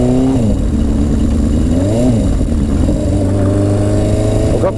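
A Yamaha XS1100 cafe racer motorcycle revs hard on a road test ride, its loud engine note rising and falling through several throttle blips and gear changes.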